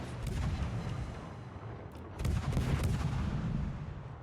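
An enemy warship's naval guns fire in World of Warships during a match in a US Omaha-class cruiser, giving a heavy, booming salvo partway through over constant rumbling battle noise.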